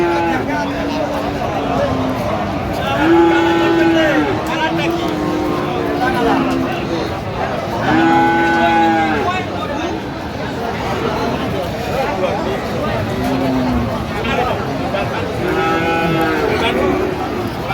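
Sahiwal breed cattle at a busy cattle market in Chattogram, repeated deep moos over the whole stretch, some near and loud and others farther off, with people talking and a crowd murmuring in the background.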